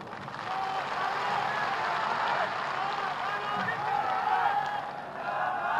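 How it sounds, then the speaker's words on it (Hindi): A large seated crowd at a Meena community gathering claps together, a dense, sustained wash of applause heard from some distance, fairly soft overall. "पूरा कुंड बैठा हुआ एक साथ ताली बजाते हैं"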